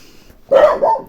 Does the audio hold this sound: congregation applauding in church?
no